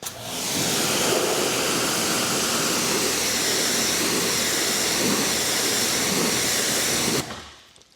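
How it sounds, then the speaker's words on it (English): A pressure washer spray rinses snow foam pre-wash off a car in a steady, loud, close hiss of water that runs unbroken for about seven seconds and then stops abruptly. "Then we're going to start our first rinse."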